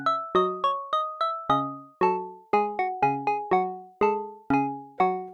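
A sequence of bright, bell-like FM synth plucks forming a short melodic pattern, each note striking sharply and decaying quickly, with no voices.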